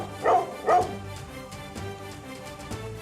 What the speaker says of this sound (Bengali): আরে পালা পালা, কুকুরটা পাগল হয়ে গেছে